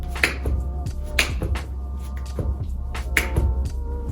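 Several sharp hand claps from clap push-ups ring out at irregular intervals, moderately loud and close, with quiet room noise between them.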